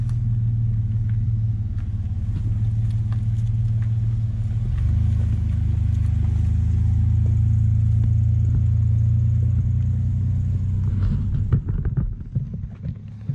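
A car, a project vehicle nicknamed Unicorn, being driven slowly down a road, its deep engine rumble steady and close before easing and fading near the end, with no talking.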